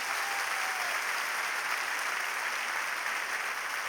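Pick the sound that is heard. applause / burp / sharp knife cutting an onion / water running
applause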